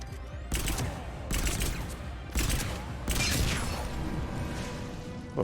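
Rapid bursts of gunfire in Mass Effect 3 come in several separate volleys with short gaps between them, loud and dense, mixed with booms and clattering battle noise.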